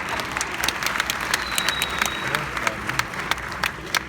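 Lively applause from a concert band audience, dense and sustained with crisp individual claps popping out, fairly loud and close, with a faint crowd murmur and some voices underneath.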